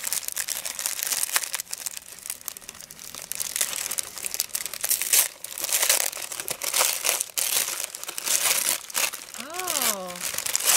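Small paper bag crinkled and rustled while being opened, a loud, continuous crackling close by, with a brief tonal chirp near the end.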